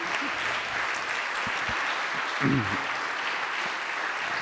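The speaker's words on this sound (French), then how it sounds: "le public applaudit" Sustained audience applause at a conference discussion, steady clapping from a crowd with a faint voice or murmur briefly surfacing beneath it.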